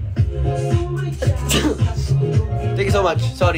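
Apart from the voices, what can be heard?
sneeze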